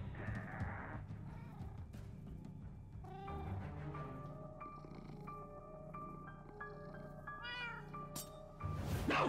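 Winslow the cat in Minecraft: Story Mode meows repeatedly in a string of drawn-out, expressive cries over a steady low background hum, ending in a sudden louder burst.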